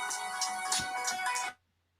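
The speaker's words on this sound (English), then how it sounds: "Mazi, no, that's my phone." A mobile phone ringtone plays nearby as a bright repeating electronic melody with steady pulses, then cuts off abruptly after about a second and a half, leaving near silence.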